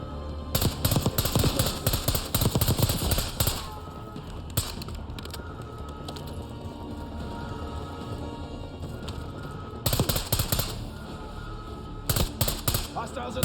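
Gunfire in Call of Duty Black Ops 6, loud rapid bursts of automatic fire in several separate volleys with quieter gaps between them.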